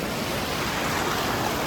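Big sea waves at Puri Beach roar in a continuous, dense wash of surf, loud and close, with wind buffeting the microphone.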